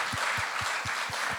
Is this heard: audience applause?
yes